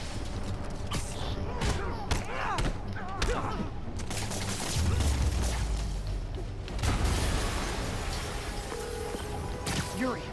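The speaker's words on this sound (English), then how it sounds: "an explosion just..." An explosion in the Spider-Man PS4 video game bursts with a deep booming rumble, crackling debris and scattered bangs, layered over a dense game soundscape without clear speech.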